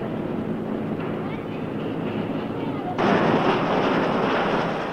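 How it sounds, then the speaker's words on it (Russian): A powerful forging press works a red-hot metal billet at the Uralmash plant in Sverdlovsk, a dense, roaring industrial rumble that suddenly swells louder and harsher midway through, under a spoken voice. "Теперь раскаленная болванка, пройдя несколько подготовительных операций,"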